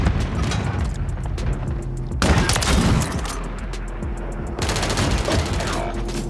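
Gunfire rattles in a first-person shooter game as dense bursts of rapid shots and loud blasts, close and continuous, with faint talk mixed in the background.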